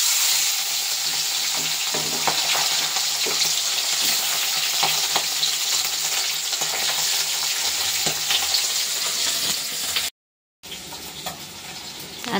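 Fish sizzles and spits loudly in hot oil in a wok, a steady close frying hiss with scattered crackles and occasional stirring clatter, no voices.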